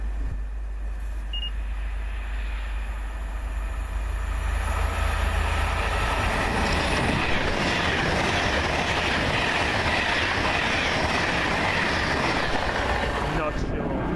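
Passenger train from Preston to London Euston approaching and passing close by, rising from a low rumble to a loud rushing roar of wheels and clattering carriages that stays strong to the end, with some faint speech nearby.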